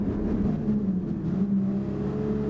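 Toyota Supra engine in GT Sport, a sustained droning hum with slight rises in pitch as it revs, loud and close, no talking.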